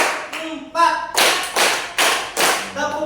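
A classroom group claps along to a counted rhythm, with sharp bursts of hand claps coming in beats and a voice counting between them.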